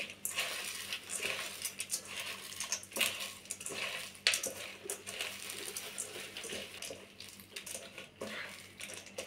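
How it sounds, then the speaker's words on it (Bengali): Chanachur and chopped onion being mixed by hand in a bowl for jhal muri, a steady close crunching and rustling with wet squelchy stirring that continues throughout, no talking. "এই যে চানাচুর এখন পেঁয়াজের সাথে ভালোভাবে মিশিয়ে এর মধ্যে মুড়ি দিয়ে দিব"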